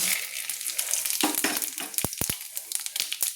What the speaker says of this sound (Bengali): ফোড়নের জন্য আমি দিয়ে দিচ্ছি দেখুন দুটো এলাচ দুটো দারচিনি আর দেখুন গোটা জিরে আমি হাফ চামচ আর দুটো তেজপাতা